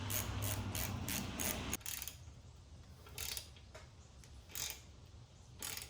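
Quick bursts of ratchet clicking as handlebar bolts are tightened on a Yamaha Banshee quad, faint and close, with short pauses between the rapid ratcheting strokes.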